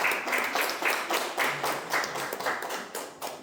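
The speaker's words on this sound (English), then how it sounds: "Please let's give her a round of applause." Audience applause for a contestant at a university Gavel Club speech competition, a modest crowd clapping with distinct individual claps audible, moderately quiet and pulsing, with no talk over it.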